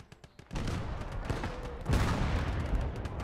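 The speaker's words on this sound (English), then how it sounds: "That's artillery of a terrifying sort." Artillery fire in the World War II game Call to Arms Ostfront. A loud barrage of booming blasts starts suddenly and rolls on continuously, and a second heavy surge hits about midway through.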